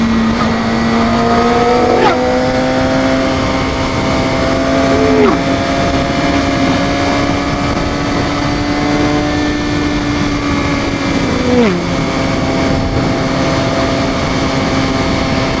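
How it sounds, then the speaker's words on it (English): Broadband roaring wind noise from riding a Suzuki GSXR sport motorcycle fast on UK roads, steady and loud throughout with a sustained engine drone beneath and brief pitch dips around shifts. "you guys can probably hear from the wind noise that I'm not going slowly here"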